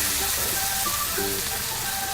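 Tomato puree sizzles loudly in masala being sautéed for a soya chunk curry, a dense steady frying hiss at close range with faint tonal clinks, with no talking.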